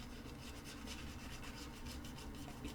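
A shaving brush swirls and whips shaving cream into a lather, producing a steady, close, continuous wet rubbing and rasping with faint rhythmic strokes and no talking.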